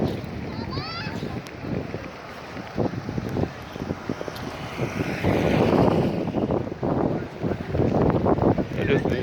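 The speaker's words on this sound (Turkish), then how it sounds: "Kıyıya da yakın rüzgarlı oluyor burası." Steady evening wind in Taksim Square, Istanbul, rushes and buffets the microphone throughout, growing stronger in the second half, with a faint background chirp early on.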